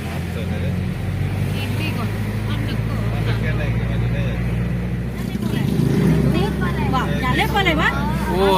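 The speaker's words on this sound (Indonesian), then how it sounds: "ternyata ada kendaraan yang ngebut teman-teman" A speeding vehicle rushes past on a road by the market in Kalibaru Kulon village, Banyuwangi, East Java, its engine noise swelling louder near the end, heard under ongoing talk and street bustle.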